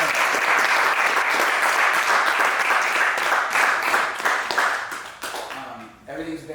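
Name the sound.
applause for the event organizer Donta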